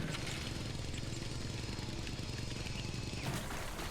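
A saw cutting a tree in the video game Torchlight 3 makes a steady, dense mechanical buzz that drones on without a break, with no talking over it.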